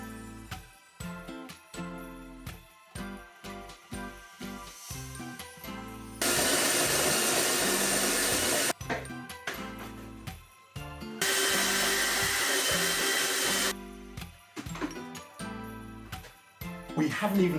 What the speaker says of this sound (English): Back to some more chopping then.